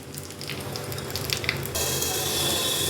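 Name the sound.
hot oil tempering sizzling in pan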